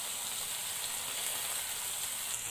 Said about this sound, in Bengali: এবার এর মধ্যে দিয়ে দেব টমেটো